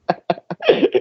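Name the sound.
cough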